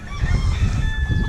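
A hen on a small farm, one of a mixed backyard flock, clucking and calling close by with other fowl noises mixed in through a steady, busy low rumble.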